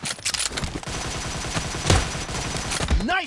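Gunfire in the video game PUBG during a team deathmatch: bursts of rapid shots crackle over a busy battle mix, close and loud, with a faint synthetic swoop near the end.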